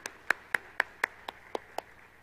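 Slow, evenly spaced hand claps ring out in a church, about eight distinct sharp claps in a steady rhythm that fades slightly toward the end, fairly close and without other voices.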